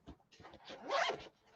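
Someone unzips a bag compartment: a quick series of rasping zipper pulls, close and fairly quiet, swelling into one longer scratchy stroke before trailing off.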